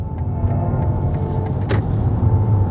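A BMW i7 accelerates hard around a roundabout, its cabin filled with a steady low rumble and smooth road hum at constant loudness, with one brief click partway through and no talking.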